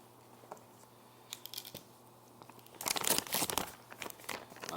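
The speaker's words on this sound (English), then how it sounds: "dry it off with some paper towels" Paper towels crinkle and crunch as they pat dry a sous vide baseball steak just out of its bag, soft rustling at first, then a louder burst of scrunching and rubbing close up with no talk.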